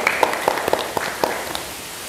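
A short burst of scattered clapping from a small group of schoolchildren in a classroom, a few claps spaced irregularly and fading out within two seconds.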